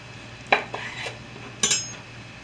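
Knife slicing through a rolled tortilla shell into 1-inch pinwheel slices for a turkey burger and garden vegetable casserole, heard as two sharp separate cuts against a board, close and fairly quiet, with no talking.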